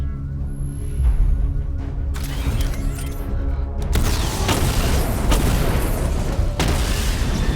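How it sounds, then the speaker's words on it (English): Missile barrage in Batman: Arkham Knight, with a low electronic hum giving way to heavy booming explosions and rumbling blasts that carry on loud and dense through the rest. "Destroy targets to charge up weapon energy and activate missile barrage."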